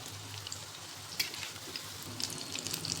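Dal vada snacks frying in oil give a steady soft sizzle, with faint crackles and small pops sitting over a low, even background hum.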